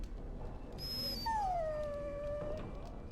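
Dog in the video game Dragon Age Origins gives a long, high, falling whimper, almost a soft howl, over a low steady background hum, fairly faint and without speech.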